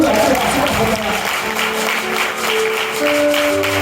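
A church congregation claps together in loud, sustained applause that fills the room, with voices rising faintly within the crowd.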